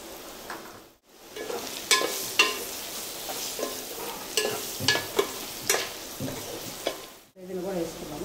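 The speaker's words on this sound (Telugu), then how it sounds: "మంచిగా ఫ్రై అవ్వనిద్దాం ఒక 5 నిమిషాలు సేపు" Mushroom masala curry frying in a pan, a steady close sizzle broken by repeated scraping and stirring clatters of a spoon against the pan, with no talk.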